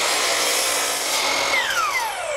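Elementary-school students cutting 2x4 lumber with a power saw in a classroom engineering project, a loud continuous whining cut whose pitch drops steadily toward the end, close and without talk.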